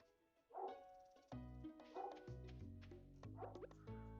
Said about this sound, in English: I really do hope you can't hear my dog. She's just yapping.